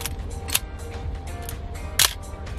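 The shutter of a Yashica Electro AX film SLR fires with a hard mechanical clack, followed a moment later by a second sharper snap over faint room hiss.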